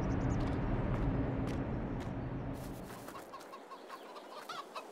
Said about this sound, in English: We have our chickens,